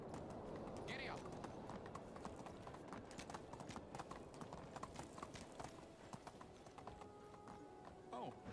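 Hooves clip-clopping at a steady riding rhythm in the medieval life-sim game Medieval Dynasty, quiet and continuous, with a brief whinny-like tone near the start and a person talking faintly over it.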